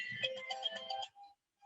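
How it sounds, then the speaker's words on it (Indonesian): A phone ringtone plays a brief, bright melodic jingle of repeating tones for about a second, then cuts off into near silence. "Sebentar, ada telepon."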